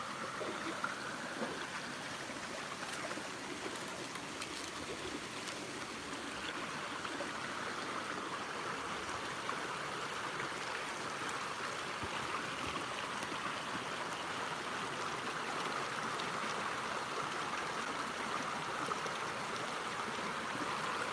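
Steady, full-bodied rush of falling water from a waterfall on an outdoor walk, continuous and fairly near for the whole stretch with no talk over it.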